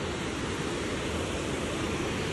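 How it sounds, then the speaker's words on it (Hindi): Glacier meltwater rushing past at Kedarnath, a continuous, dense roar of flowing water that stays steady and close throughout, with no voices over it. "ये जा रहा है सारा पानी बहता हुआ है यहाँ से"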